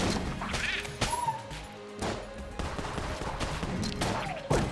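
Bursts of gunfire from the bullet-hell game Enter the Gungeon, a series of sharp cracking shots and impacts scattered irregularly over a busy game backdrop, loud and close with no talk.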